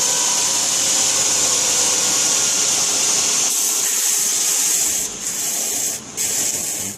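Sanding with successive sandpaper grits gives a continuous close, loud rasping scrub that carries on steadily for several seconds with only brief dips near the end.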